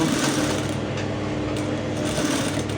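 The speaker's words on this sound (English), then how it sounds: "I'm just sewing the head shape now, and I'm removing my pin as I'm going." A sewing machine runs steadily up close, stitching fabric along a head-shape line while draping a blouse bodice on a dress form, a continuous mechanical whir with no talking.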